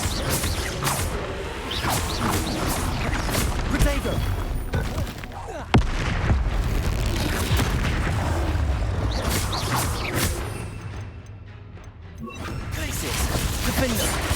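Spell explosions crash through a troll fight in Hogwarts Legacy, with repeated booms, smashes and whooshes in a chaotic, continuous barrage. Shouted voices come through over the blasts.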